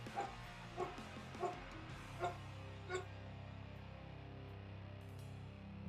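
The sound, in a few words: dogs barking and whimpering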